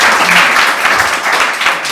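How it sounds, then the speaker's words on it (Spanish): Loud congregational applause in a church after a sermon, a short close burst of many hands clapping with slight swells and no speech over it. "Le dan un aplauso a Cristo."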